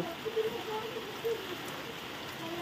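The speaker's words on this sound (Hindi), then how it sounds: "बहुत जोर वर्षा है" Heavy rain falls in a steady, continuous hiss around a Rath Yatra festival setting, fairly even in level with a few faint tonal sounds rising above the wash.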